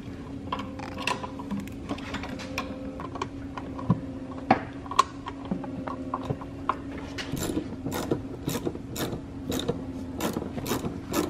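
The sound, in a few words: ratchet removing external Torx 14 bolts from BMW transmission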